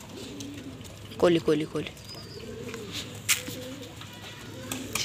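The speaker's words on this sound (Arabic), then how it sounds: "طبعا ده بيها يجي الحمام." Pigeons and young squabs coo softly nearby in a few short rounds, while someone talks and calls to the birds over them.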